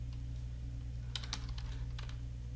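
A computer keyboard is typed on in a few quick bursts of crisp, close key clicks over a low steady hum.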